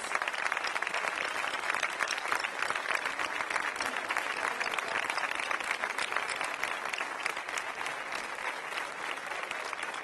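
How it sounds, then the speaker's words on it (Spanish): Sustained, dense applause from an audience at a Podemos political rally in Torrent, Valencia, honoring the event's volunteer organizers; steady, even clapping fills the full stretch with no voices rising above it. "Y un aplauso para ellas."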